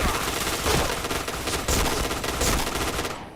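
Rapid bursts of automatic gunfire from a shooter video game, dense and loud, with short pauses between sprays across a few seconds.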